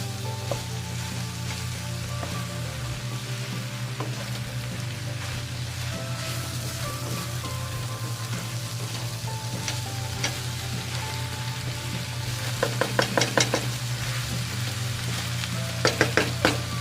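Pork for binagoongan with shrimp paste frying in a pan, a steady close sizzle throughout, with short bursts of scraping as it is stirred near the end.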